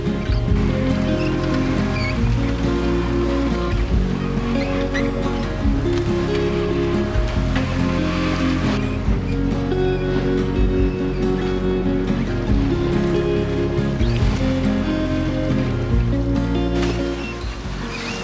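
Constant rushing water and low engine-like rumble as a sailboat moves along on the Great Lakes, loud and steady throughout with no voices.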